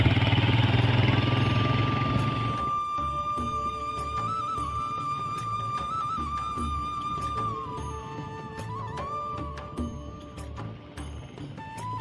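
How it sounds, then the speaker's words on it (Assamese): A motorcycle climbs a hill on a scenic rural road, its engine droning steadily with a rising and wavering whine and some rattling clatter, loud at first and then easing to a sustained mid-level hum. "বাইকেৰে বলক বাইকতে গৈ থাকোঁ"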